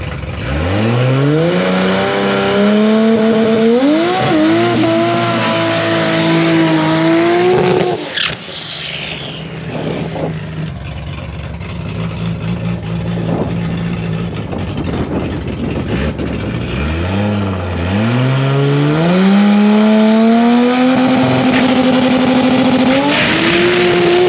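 A 2JZ-engined Chevrolet Cobalt race car launches hard from the start, its engine rising in pitch through rapid gear changes, dropping back, then revving up again loud and close.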